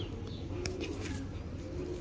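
A breeder pigeon gives a soft, low coo, faint against a steady background hum, with a brief click partway through.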